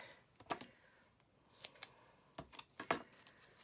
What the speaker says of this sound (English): I shouldn't be using the scissors that I'm using to cut my tape